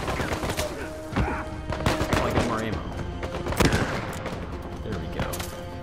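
Gunfire in the video game Uncharted 4: A Thief's End crackles in sharp bursts of loud, close shots with impacts and clatter mixed in, and a voice speaks among them.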